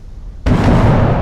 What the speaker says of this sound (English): Explosion southwest.